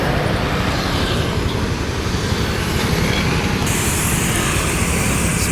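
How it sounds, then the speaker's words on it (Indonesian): A Rana Minang bus passes close by on the road, a loud, steady broadband engine and tyre roar that fills the whole clip with no talk. "Masuk lagi bus dari Rana Minang."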